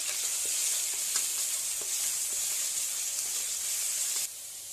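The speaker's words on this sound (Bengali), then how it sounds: "প্রথমে তেল দিয়ে দিয়েছি আর রসুন, পেঁয়াজ, কাঁচামরিচ দিয়ে দিব" Garlic, onion and green chillies sizzle in hot oil for a mashed taro curry, a constant close hiss with faint stirring clicks before the sound drops near the end.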